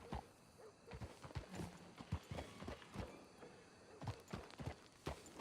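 Horse hooves clip-clop in the video game Red Dead Redemption 2, an irregular run of quiet, sharp hoof strikes on the ground with small pauses between them and faint background ambience.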